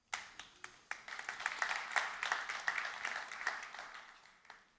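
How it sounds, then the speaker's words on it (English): At the NOAH19 conference in Berlin, a few sharp isolated claps grow into a full round of audience applause that swells and then tapers off toward the end. "Applause for Nicky."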